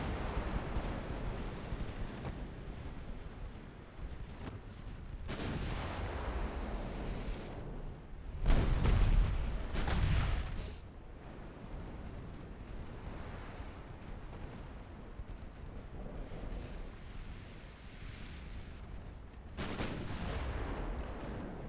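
Heavy naval gun blasts in a warship battle game, deep booming reports spaced several seconds apart over a steady wash of sea and wind, with one louder, closer salvo in the middle.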